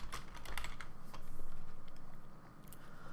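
Fast, steady clatter of keys typed on a computer keyboard in Windows, close and moderately loud, with light clicks running continuously and no voices.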